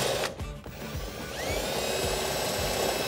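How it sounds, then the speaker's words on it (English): A power drill with a 1/4 inch bit bores a hole at the back end of an inner fender liner on a Jeep Wrangler JK, giving a loud, continuous whine that rises as the bit bites, alone and close. "I'm going to take a 1/4 inch drill bit and drill that out."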